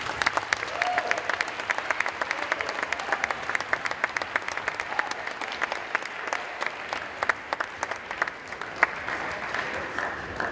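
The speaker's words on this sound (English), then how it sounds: "Please join me in a round of applause for Mr." A high school Wall of Honor ceremony audience claps steadily for an honoree, a dense, even patter of many hands held at a moderate level throughout.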